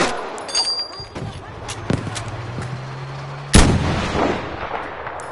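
A tank fires: a few sharp, loud gunshot cracks early, a low humming drone in the middle, then one heavy, booming cannon blast near the end that echoes away.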